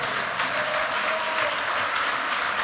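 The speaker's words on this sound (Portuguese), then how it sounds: "Dê a Ele a sua melhor salva de palmas." A church congregation applauding during a celebration service, a steady, even roar of many clapping hands, fairly distant and continuous, with no voices standing out.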